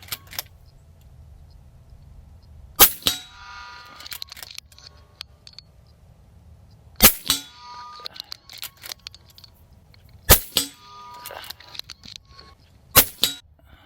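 An AEA Challenger Pro Long .357 air rifle with its long barrel fired offhand: five sharp, loud reports spaced a few seconds apart, each followed by brief metallic clatter and handling noise.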